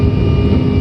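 Constant, loud engine drone from inside an airplane flying in to land, a steady low rumble with no breaks over a short moment.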